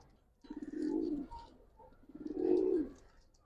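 Two soft, rolling coos from a Giribaz pigeon, close by and fairly quiet, separated by a short pause.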